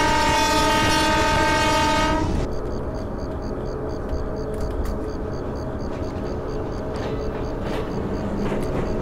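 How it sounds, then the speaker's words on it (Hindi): An Eastern Railways EMU local train on the Durgapur–Asansol route sounds a loud, sustained horn for about two seconds as it departs, then its running rumble and wheel clatter carry on close by. "अभी हम लोग हॉर्न बजा के डिपार्ट करते हैं"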